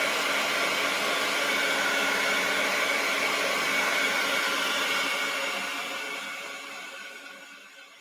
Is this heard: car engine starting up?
no